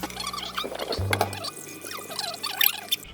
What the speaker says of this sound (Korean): 찬물에 재빨리 헹구는 이유는 어, 면발의 탱탱함을 위해서죠